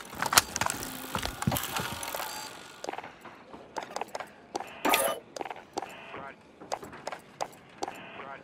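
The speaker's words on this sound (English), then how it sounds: "Reloading!" A weapon reloads in Call of Duty: Modern Warfare Spec Ops Survival mode, with a run of sharp metallic clicks and clacks in quick bursts that follow a louder, busier stretch of game noise.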